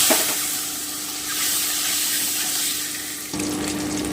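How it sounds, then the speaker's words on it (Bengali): Eggs frying in oil seasoned with turmeric and salt in a pan, a steady close sizzle with crackling hiss that holds throughout and swells slightly near the end, with no talking. "এবারে আমি ডিমগুলোকে ভেজে নিচ্ছি খুব বেশি ভাজবো না হালকা করে ভাজবো"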